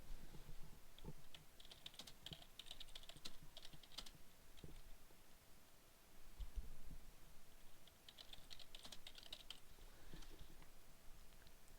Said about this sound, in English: Notes, you can type in the notes.